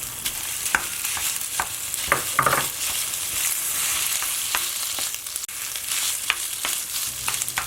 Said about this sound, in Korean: 달걀 한 개를 풀어서 스크램블을 하다가 밥 한 공기를 넣고 볶아주세요